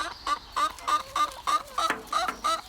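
Chickens cluck in a garden, a steady run of about eight short, evenly spaced calls close by with no talking.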